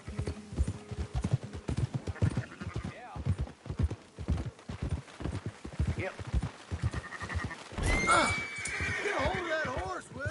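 A horse whinnies amid a busy rhythm of hooves clip-clopping close by, with sheep bleating around it and people talking over the commotion.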